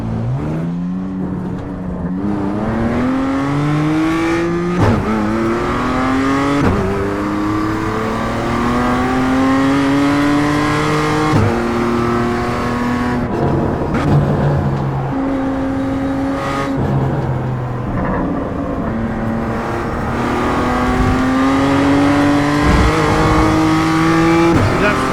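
A race car in the iRacing sim accelerates hard, its engine note climbing steeply and dropping back at each upshift, then climbing again. The loud, continuous revving has no talk over it.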